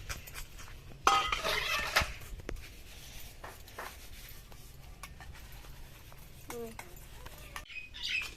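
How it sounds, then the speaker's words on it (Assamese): Dishes, pots and utensils being scrubbed and rinsed by hand in a home kitchen, with clinks of metal and splashing water at close range, brief louder clatter near the start, and faint birdsong in the background. "এতিয়া মোৰ বাচন মাজা হৈ গ'ল"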